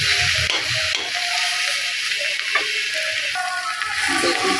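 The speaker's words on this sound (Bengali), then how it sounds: "এভাবে এটা কম আগুনে আস্তে আস্তে ভাজতে হবে।" Shredded cabbage stir-fried slowly over low heat in a pan, a steady close sizzle and hiss with intermittent scraping of the spatula stirring it, no talk.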